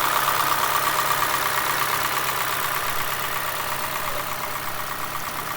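A 2014 Honda Fit's 1.3-litre chain-driven engine idles steadily, a continuous even hum close by that fades slightly toward the end, with no voices.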